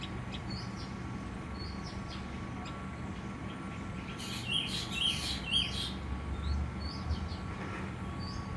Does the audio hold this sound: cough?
no